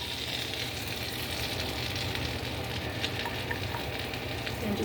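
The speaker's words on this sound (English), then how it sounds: "let's begin to put the veggies in" Chopped zucchini, red onion and carrot sautéing in a pan on the stove, a steady dense sizzle at moderate volume with faint stirring, no speech.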